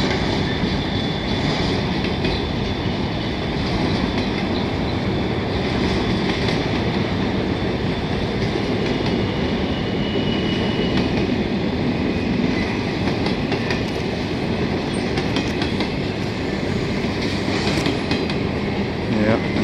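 A commuter train of old AMT cars rumbles past steadily up close in Montreal, with continuous rolling rail noise and faint rhythmic clatter of wheels over the tracks throughout.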